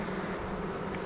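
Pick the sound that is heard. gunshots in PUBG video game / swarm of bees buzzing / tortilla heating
swarm of bees buzzing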